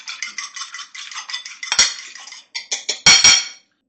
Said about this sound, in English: Mix this egg up.